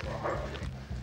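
Dogs bark and yip in an agitated burst within a German audio drama set in a forest, several quick repeated calls close by over a dense background of noise.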